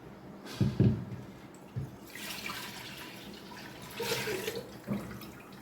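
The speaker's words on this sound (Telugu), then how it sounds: "మనం ఇప్పుడు బియ్యం కడిగి పెట్టుకుందాం" Rice being washed in water for a traditional Telangana meal cooked in a clay pot, with a couple of close splashes and swishes early on, then a steady soft trickle and rinse with a few more splashy stirs.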